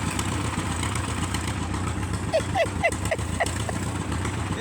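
A small Farmall B tractor engine idles with a steady low chugging rumble, close by, while a few faint squeaky chirps sound briefly in the middle.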